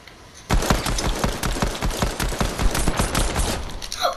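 Rapid gunfire in a Fortnite match, loud and close, with a burst starting abruptly and continuing in a fast, slightly uneven rattle of shots.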